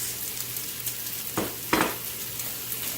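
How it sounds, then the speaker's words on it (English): Rice hits crisp rendered bacon in a hot pan, a steady sizzle and fry with two brief louder stirring swishes partway through, close and continuous. "now that our bacon is rendered off, and a bit crispy, we're going to be adding 2 cups of our barrio rice"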